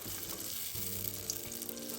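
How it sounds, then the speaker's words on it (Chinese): Rice paper shrimp rolls deep-fry in hot oil, a faint continuous sizzle and bubbling with a few soft pops, alone. "一直油炸至米纸表面金黄香脆，即可沥干油分取出。"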